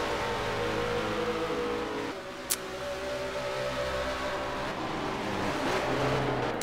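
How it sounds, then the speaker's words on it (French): Race cars compete in the Project CARS racing video game, with a steady drone of engines and shifting revs in an esports final, moderately quiet, with no talk. "Est-ce que à l'extérieur, la quatrième place va être bientôt cédée, la troisième pardon, va être cédée par Johan au pilote de la quatrième place, Toscan"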